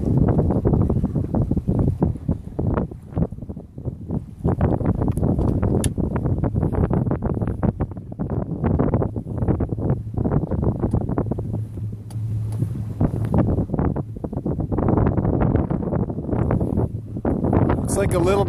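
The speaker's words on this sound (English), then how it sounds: "Looks like a little bit of wind is on" Steady wind buffets the microphone throughout kite launch practice, a continuous low roar with gusty swells, with an instructor talking over it.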